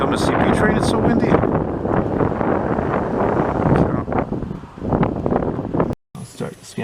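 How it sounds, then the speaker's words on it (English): Strong wind buffets the microphone with a constant low roar and gusty rumbling, almost unbroken, briefly cutting out near the end, in Montreal. "It's so windy."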